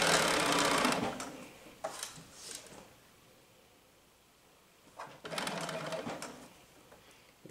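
Sewing machine stitching a sleeve into a shoulder seam, running in two loud bursts of rapid whirring stitches separated by a few short starts and a quieter pause, close up with no talking.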